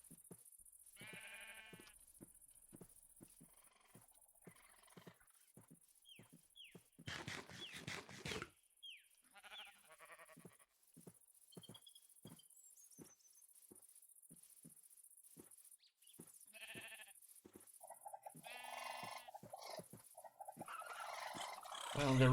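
Sheep bleating in a Minecraft world, several short scattered bleats and animal calls spread across a quiet stretch, with occasional clicks and other game sounds between them.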